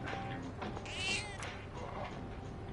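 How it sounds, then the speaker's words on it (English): A weak, hungry cat in the video game Persona 3 Reload lets out a plaintive, drawn-out meow, close and clear over a steady background of game music and ambience. "This cat looks very weak. It seems like it might be hungry."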